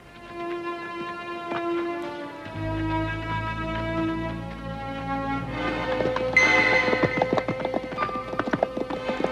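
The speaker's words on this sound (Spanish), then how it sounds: "Trae los caballos." Horses' hooves clip-clop at a steady walking rhythm in an Old West setting, with a musical score rising beneath them and the hoofbeats growing louder and busier midway through.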